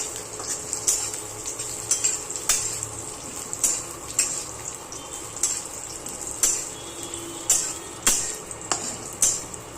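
Raisins roasting in a pan for makhana laddoo, with a spatula repeatedly scraping and clinking against the metal in an uneven rhythm over a soft, steady sizzle, close by.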